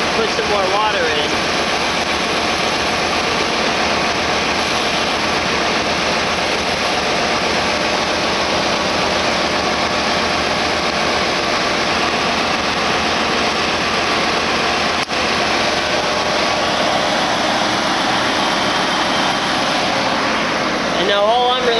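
An LT1 small-block V8 car engine idles steadily and continuously with the bleeder screws open during a coolant flush, a constant rumbling hum with no pauses for the whole stretch.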